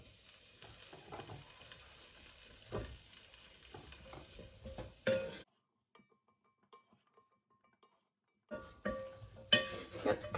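Pepper frying with spices in a pan, a close steady sizzle with stirring scrapes and clinks that drops out to near silence for a few seconds before the sizzling resumes.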